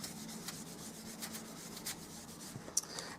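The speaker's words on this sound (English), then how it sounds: "I'm going to now rub the embossing buddy over the top of the butterfly." An embossing buddy is rubbed over a paper butterfly in a stamping craft project, a soft, steady close-up rubbing and brushing with faint scratchy strokes and one small tap, quiet and alone.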